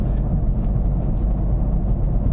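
A 2025 Toyota GR Corolla with an 8-speed automatic, heard from inside while driving: a steady, loud low engine and road drone with no clear break from a gear change.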